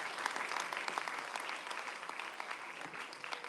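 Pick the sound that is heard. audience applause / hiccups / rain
audience applause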